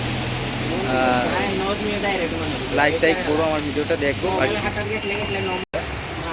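Heavy rain pours down in a steady, loud hiss throughout, with a person talking over it.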